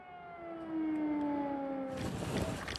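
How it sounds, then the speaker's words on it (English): A long, wailing air raid siren in wartime Ukraine holds steady, rising and falling slightly, before a burst of broadband noise and rumble swells in near the end. "are forced to seek safety when an air raid siren rings out"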